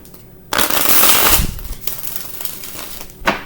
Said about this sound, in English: I'll give these one good shuffle.